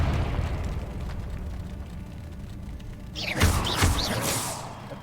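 Confringo spell explosions from the wizarding video game Hogwarts Legacy: two loud, bursting blasts land near the end, one after the other, over a rumbling game background with no speech.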